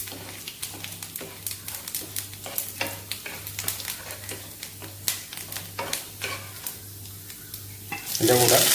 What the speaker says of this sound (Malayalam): വെളിച്ചെണ്ണ ഒന്ന് ചൂടായി തുടങ്ങിയിട്ടുണ്ട്. നമുക്ക് നേരത്തെ കാണിച്ച സാധനങ്ങൾ കടുക് പൊട്ടിക്കാം.